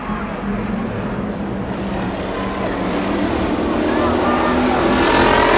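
Race cars roar around an oval at Columbus Motor Speedway, a steady loud engine drone building slightly as the field runs door to door out of turn four.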